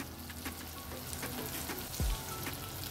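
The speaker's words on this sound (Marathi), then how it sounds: "ते आपण छान परतून घेऊया तेलात।" Spices frying in hot oil while a tomato-based chavli batata usal is sautéed: a steady soft sizzle and crackle throughout, with a brief louder hiss near the middle, no talk.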